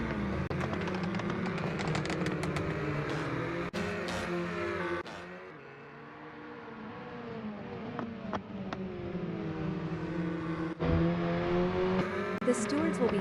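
Racing cars in a sim racing game, a Golf versus Polo fun race, with a steady whining engine drone that rises and falls as the cars accelerate and shift, heard under continuous commentary.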